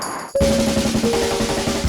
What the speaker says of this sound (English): The Call Bell Challenge.